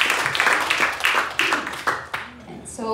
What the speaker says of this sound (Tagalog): Isang malakas na palakpak po para kay Lord.